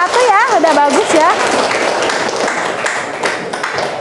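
Students in a classroom applaud a group of classmates after their presentation, a dense burst of hand claps and chatter early on that gradually thins out, with a voice speaking over it.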